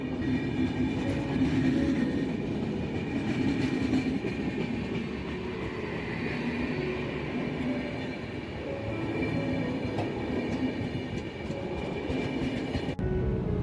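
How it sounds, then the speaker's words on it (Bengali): A diesel train with a turbocharged engine passing along a single-track line through forest, a loud sustained rumble and engine roar with rolling wheel noise that holds steady for over ten seconds. "টার্বোচার্জার ইঞ্জিনের শব্দ"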